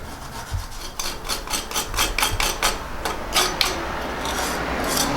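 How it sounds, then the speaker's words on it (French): Excess mortar is scraped off a wall around a shutter hinge being set in masonry, a steady run of close, gritty rasping strokes in quick rhythm with no one talking. "je vais gratter l'excédent de mortier avant qu'il soit trop dur"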